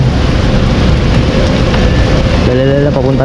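Steady rain hisses down outdoors, loud and continuous, with a low rumble and a brief tonal hum near the end, under no clear talk.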